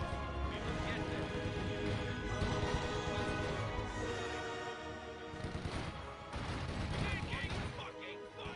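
Continuous World War II gunfire in the strategy game Company of Heroes 2, dense rifle and machine-gun bursts with explosions rolling throughout, loud and layered under shouted in-game voices.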